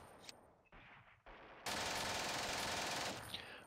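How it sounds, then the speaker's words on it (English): Gunfire from Steel Panthers, a WWII 1944 campaign strategy game, rattles in a sustained dense burst near the end after some sparse quieter shots, with no talking. "Some stray shots are hitting these Churchill tanks down there."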